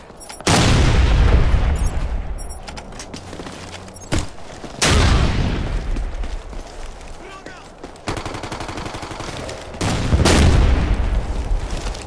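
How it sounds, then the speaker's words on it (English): Loud blasts of gunfire and explosions in the video game Ghost Recon Future Soldier, several sharp booms with heavy rumbling tails recurring every few seconds, interspersed with rattling shots and occasional voices. "Grenade out!"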